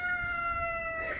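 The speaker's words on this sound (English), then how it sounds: "oh, they got them a rooster now" A rooster in a chicken coop gives a drawn-out crow, a single sustained tonal call that is clear and fairly close, with no talk over it.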